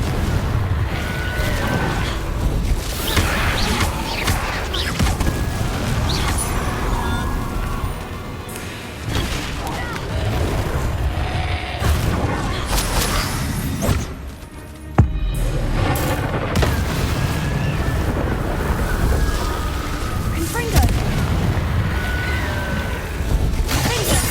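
Fiery Confringo spell blasts and combat booms in the video game Hogwarts Legacy, heavy and continuous across the clip with dense rumbling impacts, one sharp crash, and a brief lull partway through.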